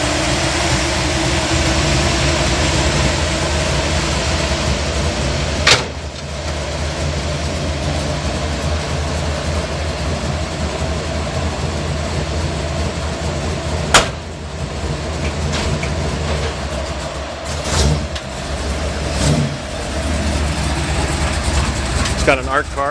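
A 1966 Chevrolet C10 pickup with a cast iron exhaust feeding a 3-inch collector and a 700R automatic rumbles steadily at idle for the whole stretch, with a few sharp clicks on top.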